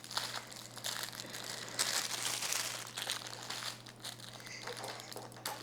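Heavily taped plastic packaging from an Amazon beauty and lifestyle bundle crinkles and tears, with close crackling rustles and ripping bursts over a low steady hum.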